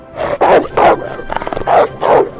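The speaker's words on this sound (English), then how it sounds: "Wolf." Wolf sound from a video game's sound list: several short, loud barking yelps in an uneven rhythm, close and clear, with no speech.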